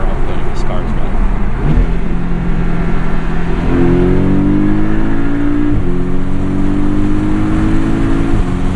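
A 2017 Porsche 718 Boxster S with PDK gearbox and MTM tuning, about 390 horsepower, accelerating from inside the cabin, engine note climbing steadily with quick gear changes in a continuous loud drone.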